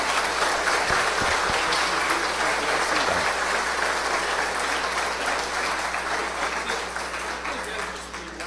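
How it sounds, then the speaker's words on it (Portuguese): An audience at the opening of a spiritist gathering honoring Chico Xavier in Brazil breaks into sustained applause, a dense, steady wash of many hands clapping that fills the hall for several seconds and tapers slightly toward the end. "Eu gostaria de pedir uma salva de palmas para eles."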